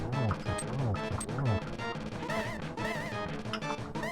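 Hammer blows striking the Helmasaur King boss in Zelda: A Link to the Past, heard as a run of loud, punchy game impact hits repeating in quick succession over busy music and sound effects.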